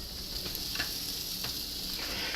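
Eggs with onions sizzle in a frying pan while being scrambled for an omelet, a soft continuous hiss with four or five distinct scraping strokes of a spatula.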